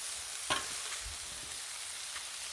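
Mushrooms fry in butter on a griddle with a steady, soft sizzle throughout. A brief scrape of a utensil sounds near the half-second mark.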